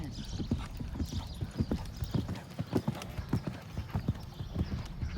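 Horse galloping during a riding lesson, hooves clip-clopping in a steady rhythmic beat, fairly close, with faint background noise.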